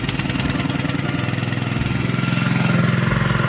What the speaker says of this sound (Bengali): তো গাইস পাম্পও স্টার্ট হয়ে গেছে, দেখতে পাচ্ছ।